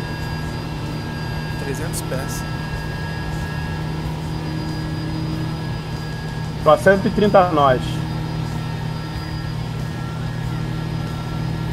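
Tecnam P2 light airplane engine in flight near Madeira, a steady droning hum and cabin noise running throughout beneath radio chatter and a pilot speaking Portuguese.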